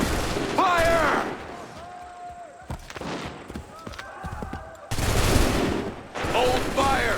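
A musket volley crackles in Assassin's Creed III, with bursts of massed gunfire near the start and a heavier roar past the midpoint, while shouted voices call orders over and between the shots.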